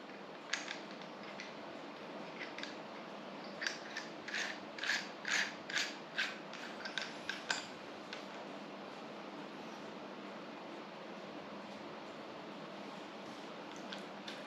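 A part of a Stoeger XM1 Ranger air rifle is screwed in by hand, giving a run of small, close ratcheting clicks and scrapes at a steady rhythm over faint background hiss.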